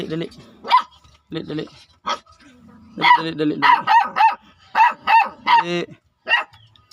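A dog barks repeatedly in short, loud bursts, several in quick succession with brief pauses, close by and dominating the clip, in the Philippines.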